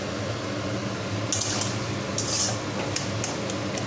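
Water is poured into a crumbly dough mixture and stirred, giving soft wet squishing and scraping against a pot, with brief splashy bursts partway through, close and steady.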